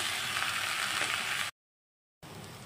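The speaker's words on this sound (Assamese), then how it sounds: "আলুৰ মিশ্ৰণখিনি ভালদৰে এনেদৰে তেলত অলপ টাইম ভাজি ল'লোঁ" Potato samosa filling fries in oil in a pan, a steady soft sizzle that cuts out to silence for a moment before resuming at the same level.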